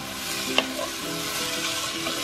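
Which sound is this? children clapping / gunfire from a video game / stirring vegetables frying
stirring vegetables frying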